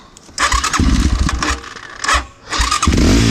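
Motorcycle with a ported 172fmm engine running, revving up and easing off in several surges with a steady idle between, close and loud, while a new whistling noise has developed.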